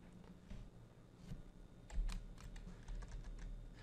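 Computer keyboard keys pressed for Geomagic Freeform 2013 modelling, a quiet run of irregular clicks and taps close by, with no talking.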